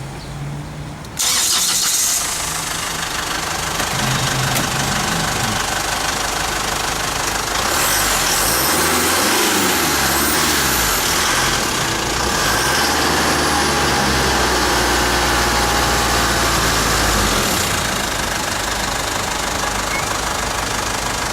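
A car engine cranks and starts with a loud burst, then settles into a steady, close idle with a few revs and slight pitch changes for about twenty seconds, with no talk.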